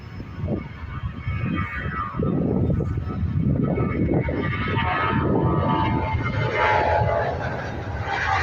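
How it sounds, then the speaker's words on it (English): A Ryanair Boeing 737 takes off from an airport on a departure to Faro: a loud, broad engine roar swells after about two seconds and holds steady to the end. "FR7032, leaving us for Faro. This Ryanair operated Boeing 737."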